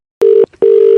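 A steady electronic telephone tone sounds twice after a call is hung up, each long, loud beep separated by a short gap with a faint blip.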